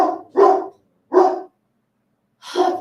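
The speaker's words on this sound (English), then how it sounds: "His bark is terrifying." A dog barks three times, loud and close, sharp separate woofs with short silent gaps between them.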